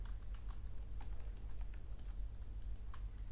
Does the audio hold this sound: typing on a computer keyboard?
yes